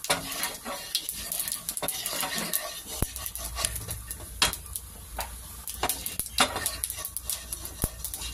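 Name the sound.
cumin seeds frying in oil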